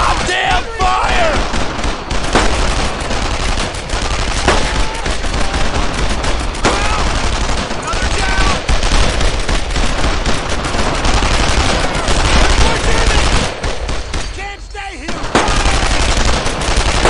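Constant loud gunfire in the World War II video game Brothers in Arms: Earned in Blood, dense machine-gun bursts and rifle shots overlapping in a continuous fusillade with brief shouts mixed in.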